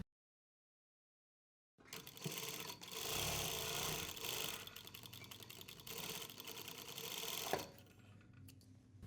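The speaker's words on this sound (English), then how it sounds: "Now turn the facing and do an understitch, that is stitch just next to the stitch line we just made." Sewing machine running a continuous understitch along the turned facing of a cap sleeve, a steady close whirring and rattle for several seconds after silence, ending with a brief knock before it stops.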